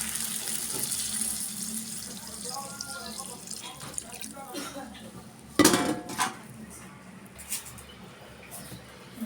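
Water is poured from a vessel into an aubergine and potato curry with poa fish, giving a brief splash and clatter of pots and utensils amid kitchen background noise.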